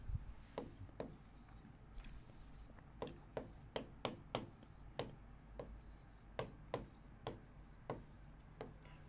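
Chalk or marker writing on a board in a classroom lesson, giving quiet scratchy strokes and regular taps as each letter is formed, close and faint, with a soft voice beneath.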